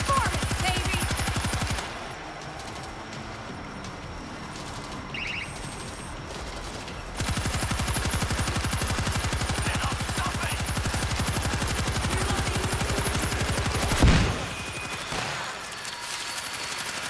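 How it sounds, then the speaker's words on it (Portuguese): Sustained machine gun fire in the zombie shooter World War Z, loud and continuous rapid bursts with brief drops in intensity and one sharper blast near the end. "Espero que a nossa metranca ali não fica sem"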